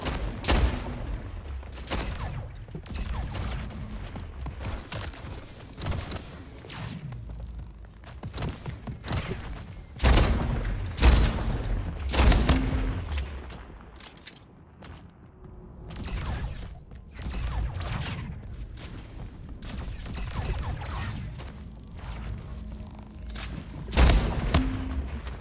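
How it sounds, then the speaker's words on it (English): Gunfire in the video game Splitgate, a shooter match: repeated sharp shots and bursts crack out again and again over about twenty-five seconds, some loud and close, with mechanical clicks and clatter between volleys. "Stop not getting hit by my bullets when I shoot at you."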